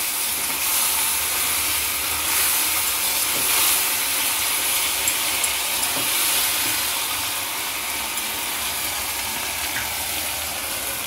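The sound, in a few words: spices frying on low flame for masala crab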